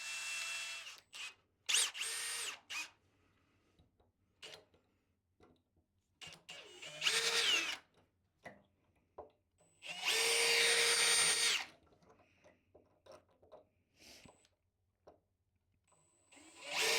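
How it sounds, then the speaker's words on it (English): Power drill with a metal bit boring into a cable drum, several short whining bursts and one longer steady run, separated by quiet handling clicks. "So we're going to try and drill at a little angle with a metal drill bit."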